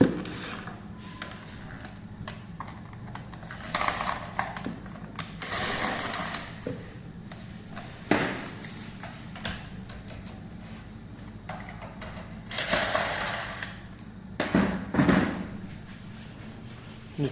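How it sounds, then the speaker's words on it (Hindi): Screws on the meter cover of a Zelio X-Men+ electric bike being loosened by hand tool, giving close, intermittent creaks, clicks and metallic scrapes with short pauses between turns. "ये 4 स्क्रू खुलने के बाद में आपका ये मीटर कवर बाहर आ जाएगा।"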